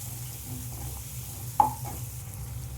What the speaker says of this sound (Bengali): দিয়ে আবারও আমি ভালো করে পেঁয়াজটা একটু ভেজে নেব আদা রসুনের সাথে।